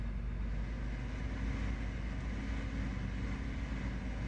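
A tractor drives in Farming Simulator 17 on the Maplewood map, producing a steady, low engine drone and rumble throughout, loud and continuous with no talking.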